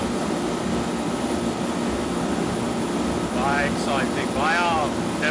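Steady broadband engine drone fills a passenger plane cabin in flight, constant and loud throughout, with voices talking over it near the end.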